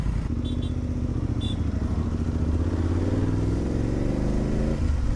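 A fully loaded BMW F900GSA motorcycle rides along a road toward Pelling in West Sikkim, its engine droning steadily up close, with a rising rev near the end and no talk over it.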